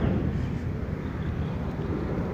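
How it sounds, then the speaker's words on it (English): An airplane passes overhead near an airport in Cantonments, Accra, Ghana, heard as a steady, loud low rumble with wind-like noise that holds through the whole moment, with no talking. "You can hear the plane passing overhead."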